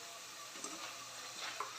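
Cassava chips frying in oil, a soft steady bubbling sizzle, fairly quiet and unbroken, with a couple of faint clicks.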